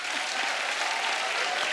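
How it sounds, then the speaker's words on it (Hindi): Studio audience on a comedy talk show breaks into brief, steady applause, an even wash of clapping at moderate volume with no voices over it. "पहले तो इसी बात पे तालियां बनती हैं।"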